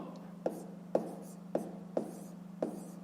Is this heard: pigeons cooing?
no